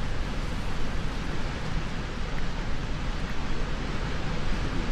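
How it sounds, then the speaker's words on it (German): Loud waterfall nearby in an outdoor survival setting, a dense, steady roar of rushing water filling the whole clip, close and continuous with no talking. "Irgendwo ist da ein Wasserfall. Es ist ziemlich laut."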